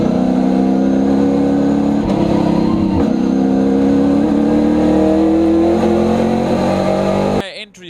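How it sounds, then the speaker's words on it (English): Race car engines roar together at the start of a classic car race, a loud sustained mechanical drone of many engines near the microphone that cuts off abruptly at the end. "engines will roar as the lights go out"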